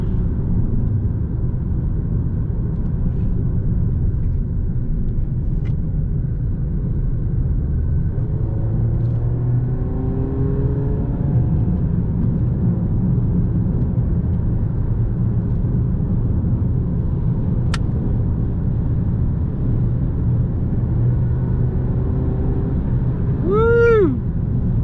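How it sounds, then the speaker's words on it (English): A Chrysler 200 car on the road, heard from inside as a steady low engine and road rumble with a faint whine sweeping up near the end. "Love the smooth, comfortable ride in my Chrysler 200."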